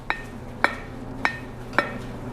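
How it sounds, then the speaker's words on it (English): Blacksmith's hammer tapping lightly on an anvil during team striking, with four evenly spaced bright metallic rings close by over a low steady background hum. "Bo and I will establish a rhythm by tapping lightly on the anvil"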